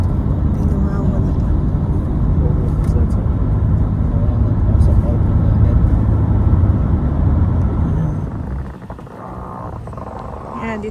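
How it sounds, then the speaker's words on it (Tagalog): Steady road traffic, many cars rolling along a wintry Saturday street near 16th Avenue, a continuous low rumble heard from inside a moving car that eases off near the end, with voices talking over it. "Marami pa ring sasakyan."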